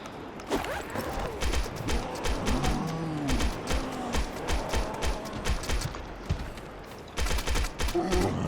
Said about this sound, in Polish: I to po 5 naboi strzela